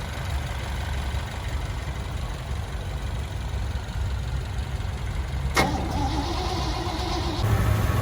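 A 1968 Chevrolet C10 engine runs steadily after a carburetor fix, a low continuous rumble heard up close, with a sharp click midway and a slight rise in engine sound near the end.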